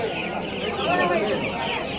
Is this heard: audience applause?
no